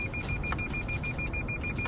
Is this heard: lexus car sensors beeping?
yes